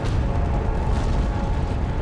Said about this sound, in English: It releases millions of tons of magma in a colossal explosion.